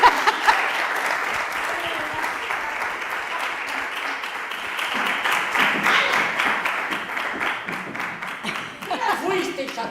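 An audience at a Xixón event bursts into sustained applause, dense clapping that holds loud and steady for the whole stretch, with a few voices and chuckles mixed in near the end.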